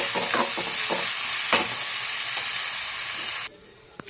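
Onions, dried red chilies and curry leaves fry in a pan as a tempering for bun dosa, crackling in a loud, even sizzle that cuts off abruptly near the end.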